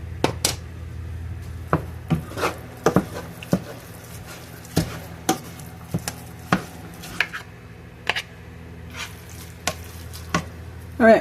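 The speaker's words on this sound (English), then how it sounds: "I'm going to go ahead and cook up the onion with the ground beef." Ground beef and onion cooking in a pan, with a steady soft sizzle under repeated sharp scraping and stirring knocks of a utensil against the pan, close by and no voices.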